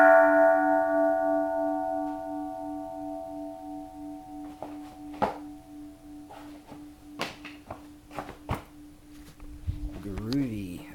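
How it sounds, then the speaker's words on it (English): A 1900s bell strikes with a sustained, ringing tone that slowly decays, followed by several sharper metallic taps and clinks, close and fairly loud, with a warbling, wavering tone near the end. "1900s bell."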